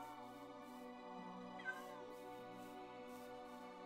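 A cat meows briefly in the Minecraft video game, a single short call over steady, droning game music that runs throughout.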